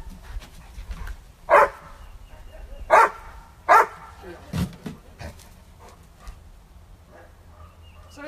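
A dog barks in three loud, spaced bursts, followed by quicker yips and panting at close range, with people talking in between.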